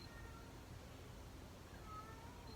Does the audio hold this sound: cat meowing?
yes